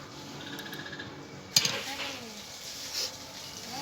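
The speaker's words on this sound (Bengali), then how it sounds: "আমি এটা উষ্ণ গরম জলে আমি এটাকে গুলে নেব" A spoon stirs Amul powdered milk into warm water in a bowl, soft clinks and a swirling scrape with one sharp tap against the rim, fairly quiet.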